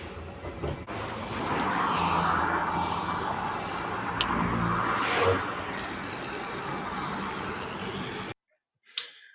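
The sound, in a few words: bus engine idling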